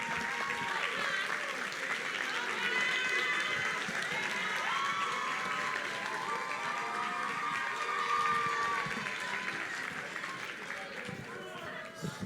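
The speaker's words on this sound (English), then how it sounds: "Give them a round of applause as we welcome them" Audience applause welcoming guests at a school graduation ceremony, steady clapping from a crowd in a hall lasting throughout, with voices and cheers mixed in.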